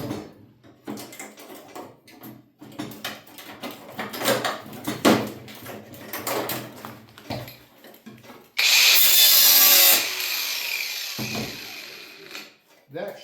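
A power tool cuts through the outer skin of a car body panel, a loud continuous grinding burst of about a second after scattered clunks, taps and handling noises, with a brief spoken moment nearby.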